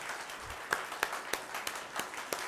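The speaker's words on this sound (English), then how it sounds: "a round of applause for our researchers" Sparse, faint clapping at a corporate brand awards event, about seven separate claps in a slow, uneven rhythm from a small group, quiet and distant.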